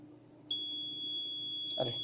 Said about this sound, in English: अरे अलार्म आ रहा है